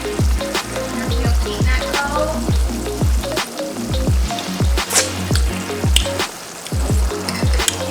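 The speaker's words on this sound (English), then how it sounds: "Ackee and Saltfish bubble down." Ackee and saltfish bubble in a pan over the heat, making a loud, close sizzle with rhythmic popping bursts and occasional spoon clinks.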